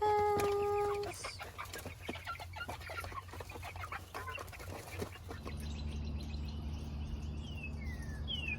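Backyard chickens cluck and murmur while pecking at their breakfast, close by, with a brief flutter of wings early on and a steady outdoor hum underneath; no one speaks.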